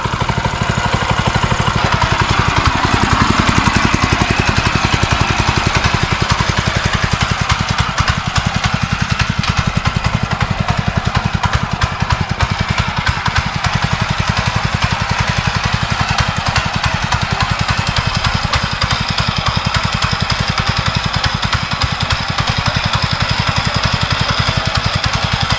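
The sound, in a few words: power tiller engine running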